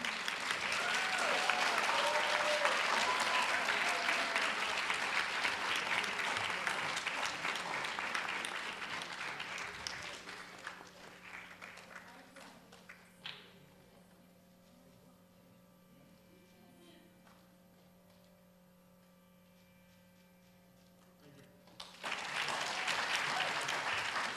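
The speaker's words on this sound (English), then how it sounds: "That applause has to be louder." Audience applause at a Bharatanatyam dance recital, a dense, loud wash of clapping that fills the first ten seconds, fades to a quiet room with faint tones, then surges back strongly at the end.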